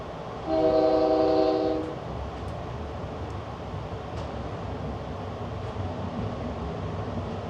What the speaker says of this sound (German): Und die Hupe.